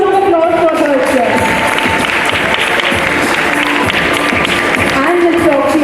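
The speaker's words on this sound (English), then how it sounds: "Can we please have a huge round of applause for Harsh sir?" Sustained audience applause fills a school Teachers' Day celebration, a steady wash of many hands clapping with some crowd murmur and a faint voice over it.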